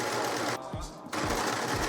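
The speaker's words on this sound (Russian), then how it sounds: "Беру отрезанный прямоугольник и сажусь за швейную машинку" A sewing machine stitches zippers and velcro onto a mosquito net, a loud close mechanical whir with a rapid rhythmic needle clatter, pausing briefly mid-burst before running again.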